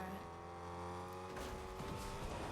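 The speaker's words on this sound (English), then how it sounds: "They're trying to hit me with the car" A car drives in Fortnite Zero Build, its engine humming with a tonal whine that rises near the middle as it speeds up, heard fairly quietly under game sounds with no voices.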